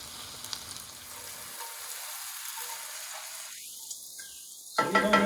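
Chopped onions and minced garlic sizzle in a pan on the stove, a soft, steady frying hiss that turns louder and brighter near the end as the pan is stirred; no one speaks.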